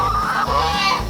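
Chickens from a newly bought laying flock cluck in a short, close burst, with layered soft clucks and calls running steadily through the moment; no one speaks.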